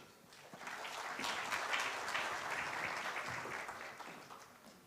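Audience applause at Innovate Nairobi Tech Week 2024, a dense, even patter of many hands clapping that swells and holds steady for several seconds, heard from a distance and fairly faint.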